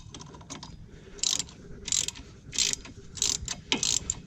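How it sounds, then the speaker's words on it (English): A 3/8 ratchet clicking while loosening wheel bearing bolts on a 2016 SS Camaro, five or six quick bursts of sharp metallic pawl clicks in an uneven rhythm, close up, with no talk. "I'm just going to switch back to a 3/8 ratchet."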